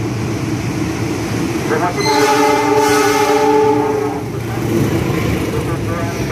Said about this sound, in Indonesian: Hadir di jalur 1 kereta melintas langsung terlebih dahulu.